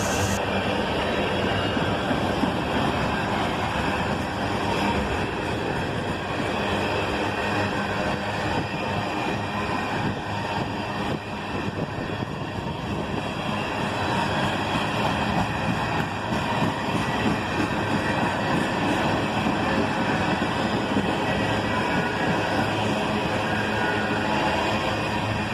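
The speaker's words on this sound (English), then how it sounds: "C40-8s pull this train out of the siding." Canadian National C40-8 diesel locomotives, a standard-cab Dash 8 among them, pulling a freight train out of a siding: a steady, loud engine rumble with rolling wheel noise and rattling cars that continues without a break.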